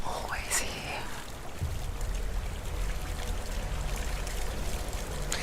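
A waterfall in the game Senua's Sacrifice rushes as a constant, hissing stream of water, steady throughout, with whispery voices murmuring over it near the start.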